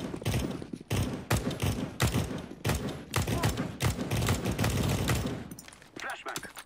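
Dense, rapid gunfire in Counter-Strike: Global Offensive, repeated bursts of loud shots crowding nearly the whole stretch with only brief pauses, mixed with other game sounds.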